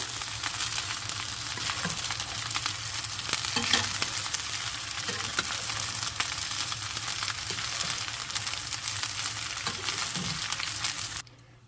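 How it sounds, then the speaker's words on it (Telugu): Egg is stirred into fried rice in a hot pan, giving a continuous, even sizzle with faint scraping of a spatula throughout. The sound cuts off abruptly at the end, and no one speaks. "దీంట్లోనే ఎగ్ కూడా యాడ్ చేయాలి సో కింద మాడకుండా ముందుగా కలిపేసుకోవాలి చక్కగా"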